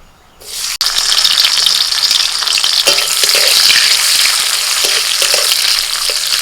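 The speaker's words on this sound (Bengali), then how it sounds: "কড়াইতে দিয়েছি সাদা তেল আর তেলের মধ্যে আমি এখন কাজু আর কিশমিশটা একটু ভেজে নিচ্ছি" Cashews and raisins dropped into hot white oil in a kadai burst into a loud, close, continuous sizzle that holds steady after a short quiet start, with a few stirring knocks under it.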